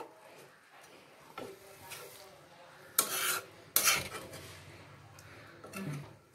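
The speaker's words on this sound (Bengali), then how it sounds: "আমি চাপা দিয়ে দিচ্ছি এটা 10 মিনিটের জন্য।" A lid is set over a pot of Kashmiri aloo dum, giving two sharp metallic clatters close together against quiet kitchen background with faint shuffling.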